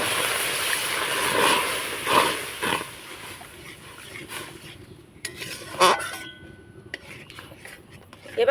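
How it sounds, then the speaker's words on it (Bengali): Semolina cooking with water in a pan is stirred into a dough, giving soft scraping and knocking of a utensil against the pan over a low hiss, with a few sharper clinks later on. "সুজিটাকে এভাবে করে অনাবর্ত নাড়াচাড়া করে একটা ডোয়ের পরিণত করে নিতে হবে"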